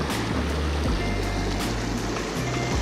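Steady broadband rush of water where Roaring Creek, Roaring River and Fall River meet in Rocky Mountain National Park, a continuous close flow with low rumbling surges and no speech.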